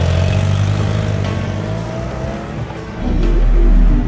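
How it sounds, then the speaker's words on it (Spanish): A motorbike engine hums and revs as it rides off toward a country house in the Swiss Alps, loud and close, swelling into a stronger accelerating roar near the end. "Se montó de un salto en su moto y se dirigió a su mansión campestre en los Alpes suizos."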